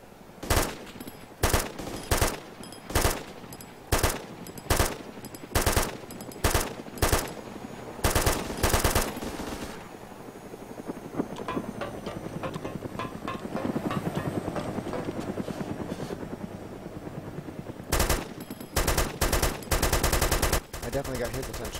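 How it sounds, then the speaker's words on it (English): A helicopter's mounted machine gun fires in DayZ Epoch, loud rapid bursts repeating in a steady stop-start rhythm, then a long stretch of continuous shooting with engine noise before more short bursts. "Shooting with that heli?"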